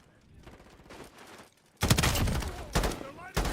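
Enemy gunfire in the Modern Warfare 4 closed beta erupts as loud, dense bursts of automatic fire after a quieter stretch, with further volleys cutting in near the end.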